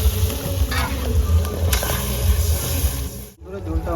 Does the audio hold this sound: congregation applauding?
no